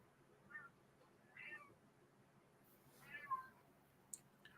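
A cat gives a few faint, separate meows outdoors along a suburban road at night, quiet calls spaced across a low, steady background hiss.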